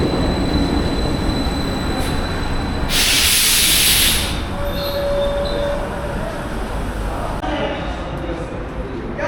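A metro train rides toward Piraeus with a steady rumble of wheels on track, a sudden loud burst of air hiss, and brief wheel squeals, while people talk nearby.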